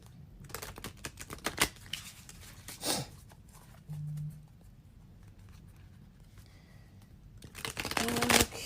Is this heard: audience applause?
no